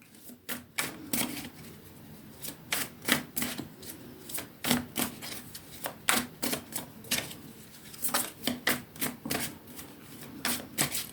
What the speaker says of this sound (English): So I'm going to pull some tarot now.